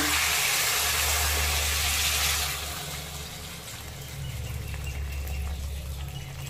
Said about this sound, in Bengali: এবার এতে দিয়ে দেব কিছুটা জল।